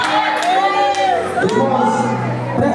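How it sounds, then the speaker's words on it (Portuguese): A church congregation claps and shouts praise during a service, loud crowd voices and cheering mixed with clapping, close and continuous throughout. "Dá palmas e glória a Deus."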